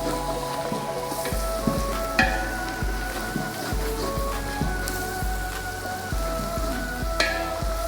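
Biryani spice mix of around two dozen ingredients frying in a pan, giving a steady close sizzle and crackle broken by scattered sharp pops and light knocks of a utensil against the pan.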